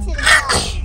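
A single short, sharp human sneeze bursts out close by, with a brief voice speaking around it.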